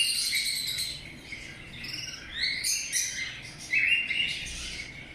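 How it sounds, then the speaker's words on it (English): Birds chirp and tweet in a city bird sanctuary, with bright overlapping calls at varying loudness over a soft, steady background and no voices. "listen to the chirping birds, a sound of nature in the heart of the city"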